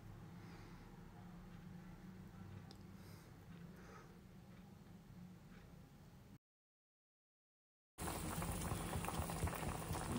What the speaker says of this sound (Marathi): Dal is boiling.